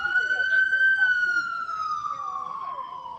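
A police siren wailing in California with a strong steady tone slowly falling in pitch, loud and continuous, with faint traffic and murmuring voices underneath.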